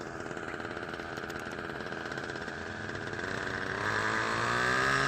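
A nitro RC helicopter engine runs steadily in flight, a buzzing whine that holds an even pitch and then grows louder and rises toward the end.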